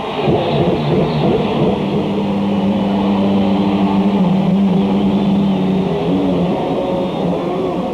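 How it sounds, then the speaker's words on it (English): Indianapolis 500 race cars fire up at the 1993 start, a loud continuous engine roar with many motors droning together and slight shifts in pitch, dense and close throughout. "Ladies and gentlemen, start your engine."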